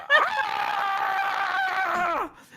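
A single long, loud scream rises sharply, holds for about two seconds with a strained, wavering pitch, then breaks off, standing alone with no other sound around it.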